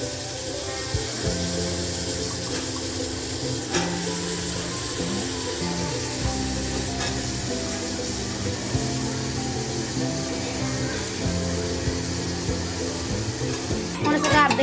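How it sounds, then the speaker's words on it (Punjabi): Chopped potatoes frying in a pan for a spicy Punjabi aloo matar sabzi, a continuous loud sizzle with stirring scrapes and clatter throughout, ending with a brief burst of sharper noise. "ਹੁਣ ਅਸੀਂ ਇਹਦੇ ਵਿੱਚ ਨਾਲ ਹੀ ਐਡ ਕਰਦੇ ਆ ਜੀ ਆਲੂ ਜਿਹੜੇ ਅਸੀਂ ਕੱਟੇ ਸੀਗੇ ਜੀ"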